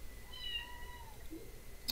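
A cat in a Cosmoteer game meows in one drawn-out, fairly close call, followed by a shorter chirp over a low steady background hum.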